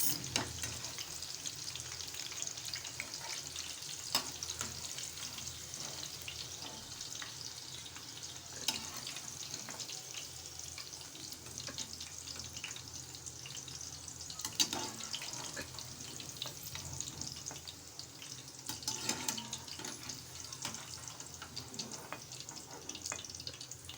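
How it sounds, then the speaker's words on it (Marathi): Continuous soft sizzle of okra frying in oil in a wok, steady and fairly quiet, with occasional clicks and light stirring sounds and no talking. "हे सगळे भेंडे आपण तेलात तळून घ्यायचे आहेत"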